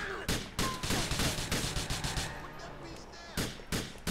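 Rapid pistol gunfire in a GTA IV deathmatch, a dense string of loud, close shots fired in quick bursts over game sounds.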